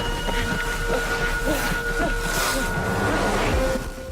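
A thunderstorm rumbles with a dense, continuous roar of rain and low thunder, loud and steady, with faint higher chirps drifting over the top.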